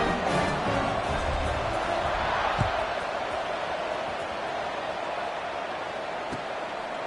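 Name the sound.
stadium crowd cheering before a college football kickoff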